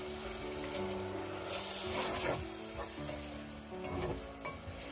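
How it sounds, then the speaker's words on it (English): Tuna pie filling sizzles gently in an oiled pan as a spoon stirs it, making soft scraping sweeps over a continuous frying hiss, and no one speaks. "Let's give it a nice gentle stir"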